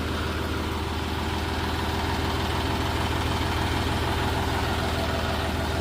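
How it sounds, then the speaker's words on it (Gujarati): A tractor engine running as it sets off toward a dam on a farm, a steady, loud, low diesel rumble with an even throb throughout and no voices. "ટ્રેક્ટર ઉપડ્યો ડીમમાં જવા હાટું"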